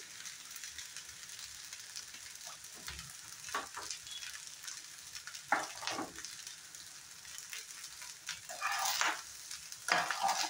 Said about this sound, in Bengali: আবার 2-1 মিনিট ভালো করে ফ্রাই করে নেব